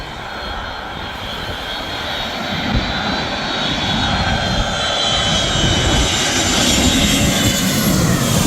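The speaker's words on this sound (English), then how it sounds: "that's the Delta flight that just flew over us" A Delta jet airliner roars low overhead at Maho Beach, St Martin, a broad loud rumble that builds steadily and stays close throughout.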